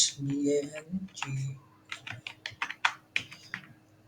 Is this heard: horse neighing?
no